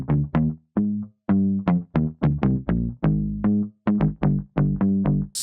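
A Teletone retrograde bass preset called A Nice Place to Start plays in Kontakt, sounding a punchy, distorted synth bass in short, rhythmic staccato notes, loud and alone with no voices.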